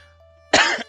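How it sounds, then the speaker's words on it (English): Two sharp, harsh coughs close up, the first longer and the second cut short, after a near-silent moment with a faint hum. "I'm still coughing."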